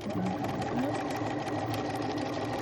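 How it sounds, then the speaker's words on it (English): A sewing machine stitching across a fabric strap at a 2-inch mark runs in a steady, continuous whirring drone, close and loud throughout with no pauses. "at my 2-inch mark, I'm going to sew across"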